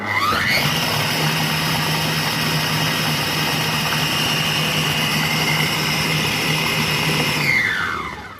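A Compact Cook Pro food processor runs at speed 7, a loud steady whirring motor with a high whine that ramps up at the start, holds constant, then winds down at the end, with no talk over it.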